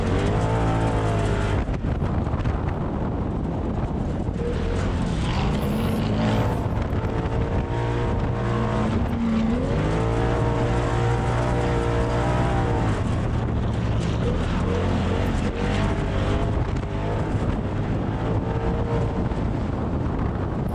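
Sandrail engine driving through the big Glamis sand dunes, a loud continuous roar with shifting revs and heavy wind buffeting, steady throughout with no voices.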